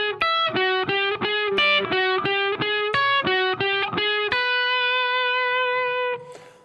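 A distorted electric guitar plays a rock and roll lick in E with hybrid picking, a quick run of sharply plucked notes and double stops in steady rhythm, ending on a held ringing note that cuts off near the end.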